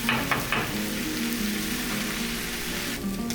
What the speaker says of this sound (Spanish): Lo dejaremos freír por unos 5 minutos